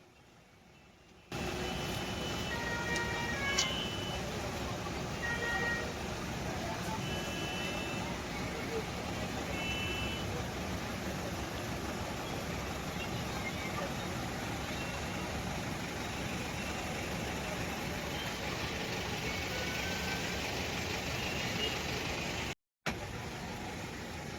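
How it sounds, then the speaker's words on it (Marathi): Road traffic jammed on the Mhalunge road near Khalumbre, a steady broad rumble of idling and passing engines throughout, with a few faint horn-like tones early on. "माळुंगे येथे ट्रॉफिक जाम असून खालुंब्रेपासून तर पर्यंत संपूर्ण ट्रॅफिक जाम झाली आहे"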